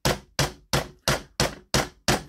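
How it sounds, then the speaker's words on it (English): A hammer taps a metal pin down through a copper hiking stick tip in seven sharp, evenly spaced strikes, each loud, close and ringing briefly before the next blow. "With the hammer, I'm just holding this firm here. I'm tapping it down through."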